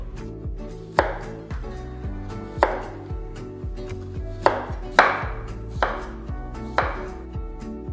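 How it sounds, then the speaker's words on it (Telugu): A knife cuts raw plantain into slices on a board, each stroke ending in a crisp chop about once a second. Loud and close, with a steady, unhurried rhythm and no talk. "ఆ తర్వాత ఇలా స్లైసెస్గా కట్ చేయాలి"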